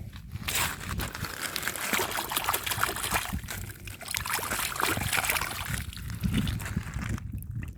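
Water splashes and trickles over an agate rock being washed off outdoors while rockhounding in Montana, a continuous close sloshing and dribbling with a few short pauses.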